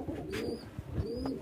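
Soft, low cooing from a fancy Giribaz pigeon sitting on eggs, in two rounded phrases, close by, with faint bird chirps and rustling in the background.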